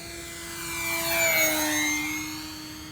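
A small electric E-Flite Sportix RC airplane flies inverted past the listener, its motor whine rising as it approaches. The pitch slides downward as it passes close overhead, then the whine fades slightly into the distance.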